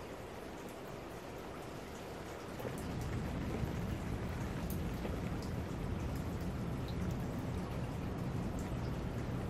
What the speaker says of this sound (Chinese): 因为今天在下雨，